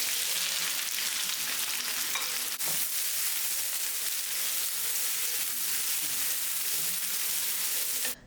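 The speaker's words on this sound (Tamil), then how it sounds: "இப்போது வெங்காயத்தை சேர்த்துட்டு நல்லா கோல்டன் ப்ரௌன் ஆகிற வரைக்கும் இதை நல்லா ஃப்ரை பண்ணிக்கலாம்" Onions frying in oil until golden brown, a loud continuous hiss and crackle that holds steady throughout with no voices.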